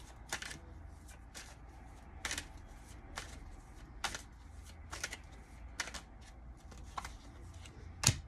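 Tarot cards being shuffled and pulled: a run of crisp, evenly spaced snaps and flicks of card stock, close and moderately loud, with no talk.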